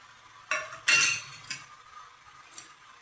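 A spoon scrapes and clinks against a pot while spices are gently stirred into a Telugu-style fish curry, a few short close stirring strokes with metallic chinks, no talking.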